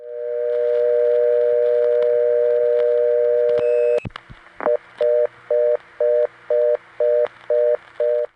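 A steady telephone dial tone hums on a 1970s step-switch tie-line, cut by a burst of clicks after a 1 is dialed, then a fast pulsing reorder tone beeps on and off about eight times.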